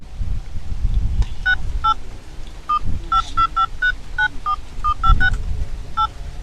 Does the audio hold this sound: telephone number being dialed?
yes